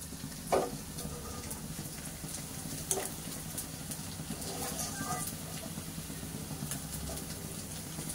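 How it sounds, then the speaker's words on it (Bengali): Paneer pieces frying in a pan give off a steady, moderate sizzle with a few stirring clinks, heard close and continuous. "এই পনিরটা ভেজে তুলে নিয়ে এই গামলিতে দিয়ে দেবো"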